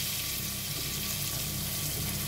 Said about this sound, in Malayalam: മുട്ടയിലൊന്ന് മസാല പിടിച്ചൊന്ന് ജസ്റ്റ് ഒന്ന് ഫ്രൈ ആക്കി ഇട്ടാൽ മതി കേട്ടോ